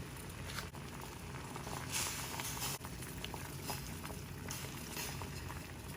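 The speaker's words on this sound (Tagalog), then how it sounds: "Okay, kulong-kulo na po." Broth with onions bubbles at a rolling boil in a pot for a Japanese beef bowl, making a soft, steady seething and gurgling wash at low volume with scattered small pops and no talking.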